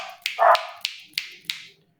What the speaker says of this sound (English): Don't mind my dog in the background.